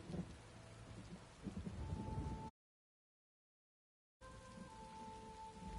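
Rainstorm in the video game Elder Scrolls Online, a dense steady hiss of rain with low thunderous rumble, cut off by a gap of silence partway through before the downpour resumes.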